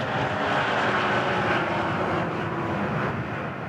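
A 5.7-litre, 400-horsepower V8 race car roars past at the Nürburgring, a loud, sustained engine drone that stays near and steady throughout.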